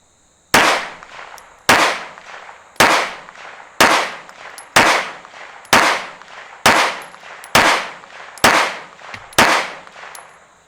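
Ten loud, sharp gunshots from a Strike Industries Mass Driver firing Remington range ammo at a target, evenly spaced about a second apart, each a hard crack with a decaying ring and no talk between.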